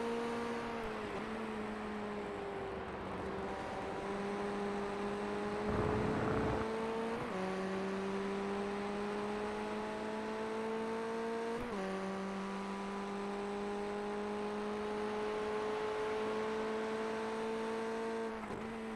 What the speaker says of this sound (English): Now you've got your engine noise.